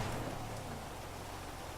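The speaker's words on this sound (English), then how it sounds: "The rain is stopping." Steady rain in a video game, a dense, even hiss of falling drops that stays constant throughout, fairly quiet and heard without voices.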